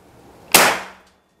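A single sharp shot from a Bocap PCP air rifle, a crisp close crack with a short bright decaying ring, alone in an otherwise quiet setting.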